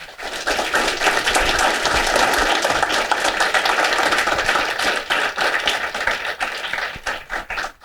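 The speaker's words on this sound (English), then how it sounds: "So a big applause for all the mentors and mentees in the room." Sustained applause from an audience of mentors and mentees at a research seminar and mentoring award event, dense steady clapping close by that thins and tapers toward the end.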